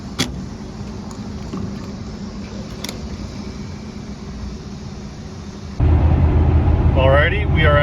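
A high-mileage pickup truck cruises at a steady 70 mph on cruise control, giving a constant rush of road and wind noise inside the cab, which grows louder and rougher near the end as a voice speaks over it.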